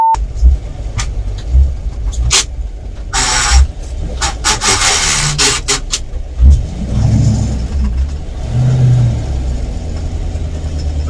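A GAZ-66 truck engine drones loud and close while driving, with low rumbling rising and falling under scraping, rattling cab noises.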